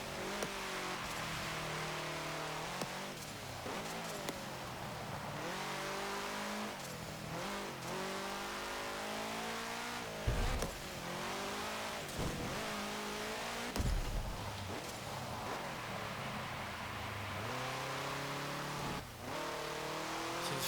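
A 1968 Abarth 595 engine in the Forza Motorsport 7 racing game revs hard and continuously, pitch climbing and dropping through repeated gear changes, with brief dips between shifts and no voices.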